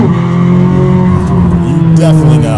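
C8 Corvette Z06 with an AWE SwitchPath exhaust drives up a canyon road, its engine droning loud and close with a rising rev and shifting pitch, while a voice talks over it.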